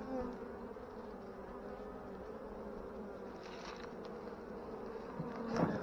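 Honey bees droning steadily at a hive during varroa treatment, a dense continuous buzz close by, with a brief louder pass near the end.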